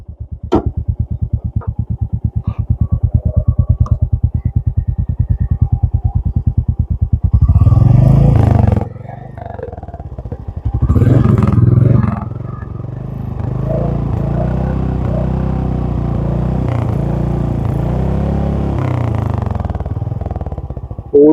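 A Royal Enfield Meteor 350 motorcycle idles with a steady, loud thumping exhaust note, then revs in two strong bursts before settling into a sustained, even running beat close by.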